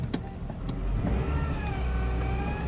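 A 2008 Honda Civic Hybrid engine holds around 2000 RPM while the car barely creeps, a steady low hum with a faint rising whine layered over it. Scattered clicks come and go, and nobody speaks.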